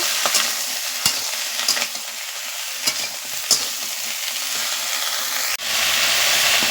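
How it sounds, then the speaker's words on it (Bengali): Bottle gourd greens and stalks sizzle in a frying pan with salt while being stirred, a steady hiss punctuated by scraping strokes and a sharp knock of the utensil near the end. "পরিমাণ মতো নুন দিয়ে দিচ্ছি নুনটা দিয়ে ভালো করে নেড়ে নেব"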